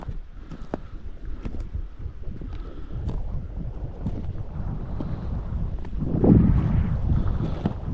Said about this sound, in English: That wind is cold, y'all, when it blows.